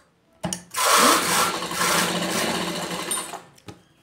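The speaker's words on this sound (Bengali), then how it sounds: "এখানটা আমি সেলাই দেবো এইভাবে" A sewing machine stitching a nightie: a click, then a steady loud mechanical whir of rapid stitching for about three seconds before stopping with a couple of clacks.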